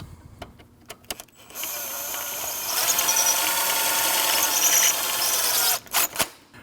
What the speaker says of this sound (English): Tighten your tension bolt.